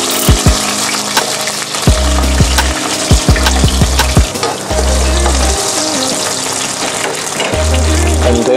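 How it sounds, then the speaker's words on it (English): Onions fry loudly in a pan, a dense crackling sizzle with sharp pops and knocks, accompanied throughout by a steady tonal hum. "Fry onions."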